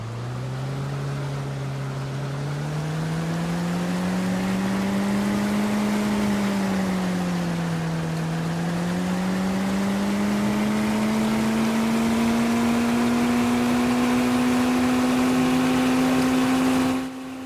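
A steady boat motor in the video game DayZ drones continuously, its pitch slowly wavering and climbing, loud and close with no voices.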